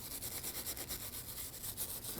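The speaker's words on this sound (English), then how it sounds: "You can use a wire brush or some sandpaper for this." Rhythmic scrubbing of a wire brush or sandpaper cleaning the rear wheel hub knuckle bore on a 2013-2015 Subaru XV Crosstrek, steady close back-and-forth strokes with no talking.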